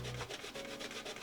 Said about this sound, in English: we are going to be using Pecorino Romano cheese grated fine on our grater, like so